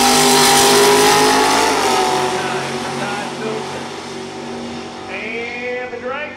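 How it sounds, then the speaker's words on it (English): A loud Spitzer dragster roars down the strip at an Ohio drag race in Norwalk, its engine blaring close then fading and dropping in pitch as it pulls away, with an announcer's voice over it. "That is a Spitzer dragster."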